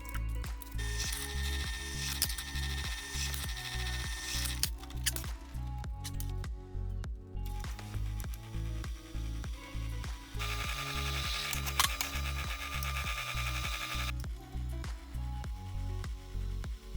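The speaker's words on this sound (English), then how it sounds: "I'll do all that drilling now because it's going to be a lot easier to do it in a little piece on the drill press." A drill press bores into small pieces for a bandsaw conveyor build, with a steady motor hum, rhythmic mechanical clicking and two longer, brighter drilling passes, close and without talk.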